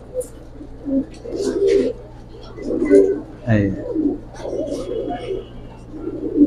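Giribaz pigeons coo in low, repeated throaty bursts close by, with chirps here and there, while people talk over the birds.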